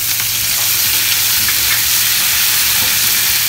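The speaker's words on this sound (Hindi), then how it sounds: "कड़ी पत्ता डालेंगे" Curry leaves sizzle in hot oil with popping mustard seeds, a steady loud crackling fry running throughout with small pops scattered over it.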